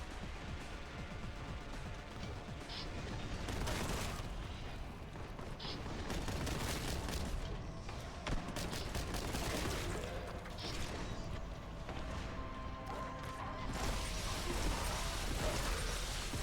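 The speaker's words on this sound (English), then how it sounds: "Who the fuck was shooting at me?" Gunfire in the retro shooter video game Boltgun, a dense, continuous barrage of booming shots and explosions with mechanical clatter layered throughout, loud and close with no talking.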